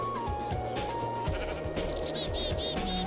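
Sheep bleating in the video game Minecraft, several wavering bleats in the second half over a busy layer of game music and effects, fairly quiet overall.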